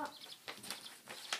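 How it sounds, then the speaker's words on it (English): Baby chickens cluck in short, close bursts, several quick calls spaced across a moment, with some faint rustling between them. "this is a chicken."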